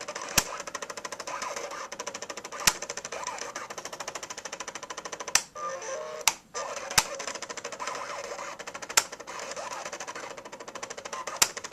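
Ecraft electronic cutting machine cutting a sheet of paper, a steady rapid mechanical whirring and chattering with regular sharp clicks and a brief pause midway; no voices.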